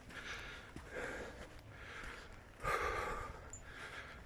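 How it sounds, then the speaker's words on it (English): A walker climbing a hill on a Peak District track breathes heavily in rhythmic, laboured puffs and sniffs, close and fairly quiet, with a stronger gasp near the end. "My breathing, as you can hear, is starting to get a little bit laboured."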